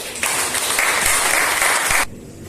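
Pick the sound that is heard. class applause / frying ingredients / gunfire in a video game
class applause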